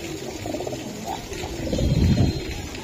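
Giribaz racer pigeons cooing nearby, low throaty coos swelling briefly over steady background noise.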